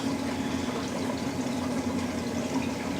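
Water runs steadily into a sand-bottomed aquarium during a roughly ten-gallon water change, a continuous close gurgling pour with a low hum underneath.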